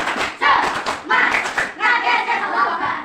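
A class of children clapping hands in rhythmic bursts, loud and close, with short pauses between rounds and children's voices running under the claps.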